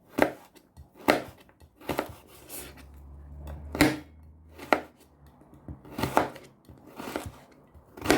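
A knife chops eggplant into large strips on a board, with eight or nine sharp cutting thuds spaced about a second apart, close and fairly loud, and a faint low hum running between the strokes.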